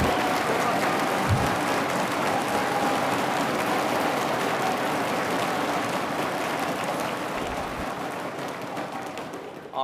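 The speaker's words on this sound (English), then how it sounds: "Let's give these guys a huge round of applause." A live audience at a math competition in the USA applauds the finalists with loud, continuous clapping that stays full and close for nearly ten seconds, easing slightly near the end.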